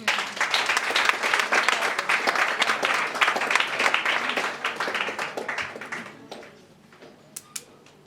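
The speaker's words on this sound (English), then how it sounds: "I think we need to clap for herbal medicine." Audience applause for a school of herbal medicine at a plant-medicine research awards launch: dense, steady clapping from a crowd for about six seconds, then thinning to a few scattered claps before fading out.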